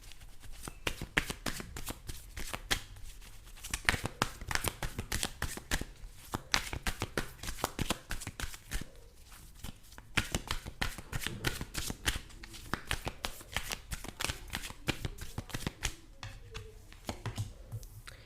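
Tarot cards being shuffled by hand during a collective love reading, a steady run of crisp riffling and slapping card sounds close up, continuing throughout with no talking.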